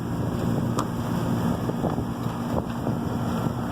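Wind blows steadily outdoors on a cold, sunny day, a continuous broad rush buffeting the microphone without pause, with faint scattered knocks beneath it.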